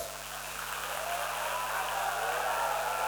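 Sustained applause from a talent show audience, a dense wash of many hands clapping that swells slightly louder over three seconds.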